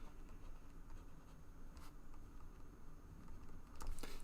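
A pen or marker squeaks and taps faintly across a board while a maths problem is solved, quiet continuous strokes with a few sharper marks near the middle and end.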